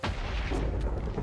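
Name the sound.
thunder during a thunderstorm in Minecraft video game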